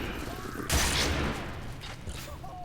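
Shotguns in a video game fire a single heavy boom that fades into echoing reverb over a game soundscape.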